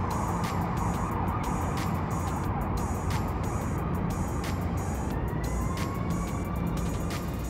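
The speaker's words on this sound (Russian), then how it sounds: "Вот у нас беспрерывные сирены днем и ночью." Emergency vehicle sirens wail through a US city street amid passing car traffic, a steady rising and falling tone carrying over the road noise with no talk.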